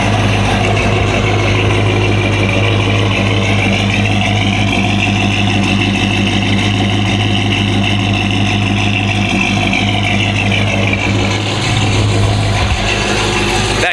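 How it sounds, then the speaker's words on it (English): A cammed truck engine, rebuilt after a blown engine, runs loud and close with a steady mechanical rumble throughout, leaving a car show at night after burnouts. "I want y'all to hear the truck one time"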